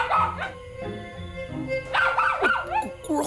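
A dog barks, yips and whimpers close by in quick uneven bursts, its whining cries rising and falling, with a faint voice underneath.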